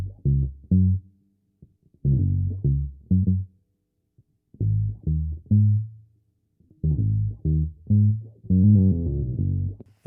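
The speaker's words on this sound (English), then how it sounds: "I got a live bass for the outro, and it sounds like this." Live electric bass guitar plays a reworked bass line for a song outro, heard alone as distinct plucked phrases with short gaps between groups of notes, loud and upfront with no other instruments.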